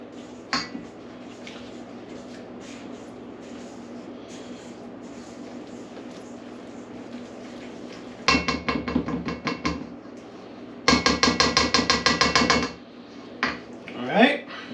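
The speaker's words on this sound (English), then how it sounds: "And now we'll give this a mix" Dry ingredients for a pumpkin roll being mixed in a bowl: light scattered clinks at first, then two bursts of rapid, rhythmic clattering and tapping of a utensil against the bowl, fairly close.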